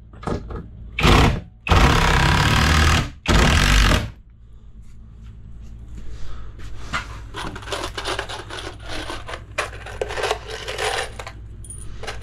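A power driver whirs loudly in three short bursts as it drives screws into the wood framing of a vanity mirror cabinet niche, followed by quieter handling and knocking noises.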